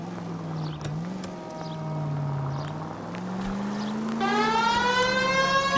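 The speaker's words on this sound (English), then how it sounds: "Turn on the siren." Police car siren in the L.A. Noire video game, a wailing tone that rises and falls over engine and road rumble, then shifts to a brighter, louder sweeping wail partway through.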